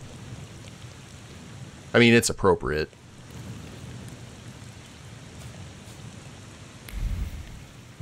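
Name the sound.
rain and thunder, from video game The Thaumaturge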